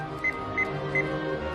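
Three evenly spaced electronic beeps from a phone keypad as a number is dialed, clear and close over a low background hum.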